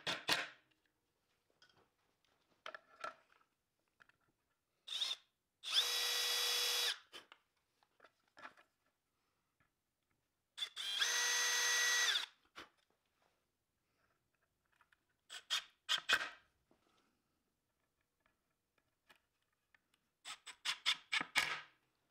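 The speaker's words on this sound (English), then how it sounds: "I've designed this helpful jig for drilling the holes for the feet" Power drill boring holes for the feet of a walnut and maple cheese board using a drilling jig, two separate sustained whirring bursts of about two seconds each, with scattered knocks and handling clatter between them.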